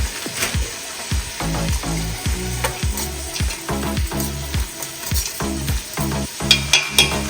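Steady sizzling of mixed vegetables frying in a pan for curry rice, with repeated scraping and stirring strokes at a regular rhythm, close and fairly loud, no talking.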